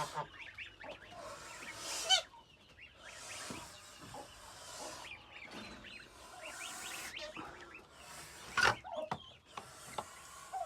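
Young geese cheep and peep in a group, with repeated thin high calls overlapping at close range, steady chatter and a few louder bursts, without talk.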